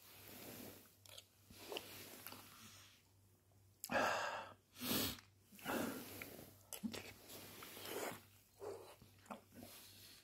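Someone takes a spoonful of pineapple, coconut milk and vegetable stew and chews it, producing soft, close mouth sounds and breaths in uneven bursts against a quiet background.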